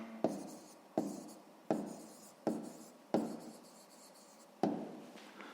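A pen writes on paper in a math exercise, making six distinct scratchy strokes at a steady pace, each a short, close, quiet burst that fades away, with no voices over it.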